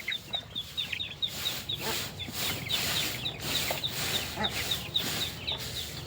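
Young chickens, around four weeks old, on a poultry farm cluck and peep in a quick, regular series of high chirps over a low, busy murmur of the flock.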